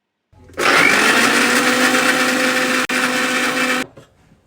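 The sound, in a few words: mixie grinder blending ginger, garlic and fried onions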